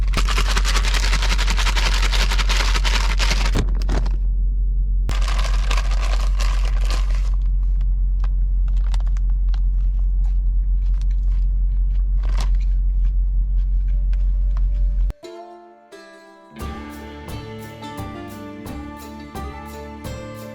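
A steady low road rumble fills a car cruising on a highway, broken by occasional crunchy bites of salad eaten inside. Near the end the sound cuts abruptly to a different, tonal passage.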